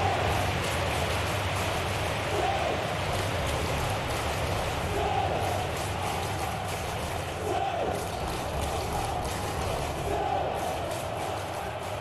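Football crowd at a Championship match between Bristol City and Middlesbrough, with steady broad applause and murmuring that holds throughout, a loud, continuous wash of clapping from the stands.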